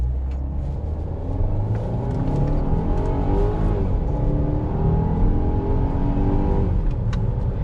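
Car engine revs loudly while driving, a strong sustained rumble with rising and falling pitch as it accelerates and shifts.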